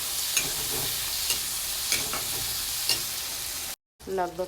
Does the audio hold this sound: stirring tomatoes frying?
yes